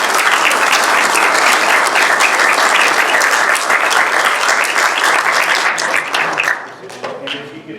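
Sustained applause from a seated audience at a university agricultural engineering session, dense and steady clapping for several seconds before tapering off and fading near the end.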